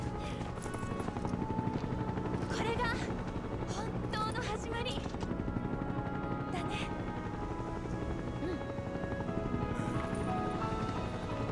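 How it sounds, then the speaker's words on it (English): Helicopters in the video game Final Fantasy VII Rebirth make a continuous, dense rotor chop that runs steadily throughout, with game sound effects and some voices over it. "These helicopters are hella annoying."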